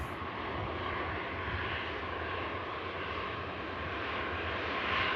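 EasyJet airliner rolling off the runway onto a rapid exit taxiway at Manchester Airport after landing, producing a constant engine roar and hiss at even loudness from start to finish.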